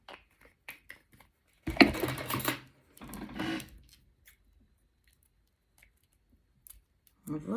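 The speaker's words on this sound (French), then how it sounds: "Je peux couper le surplus avec une paire de ciseaux." Scissors snipping through the excess edge of hardened UV resin jewellery after demoulding: a few sharp clicks and a brief crunchy cut, then a second short burst, close and fairly quiet with silence between.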